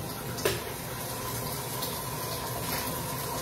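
Tap water runs steadily into a kettle in a home kitchen, a continuous splashing stream with one brief louder splash near the start, heard alone without talk.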